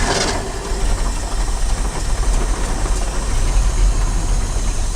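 A field-fresh Ford engine pulled straight from a pasture sputters to life and keeps running roughly, a loud, steady low rumble close by with a faint idle chatter throughout.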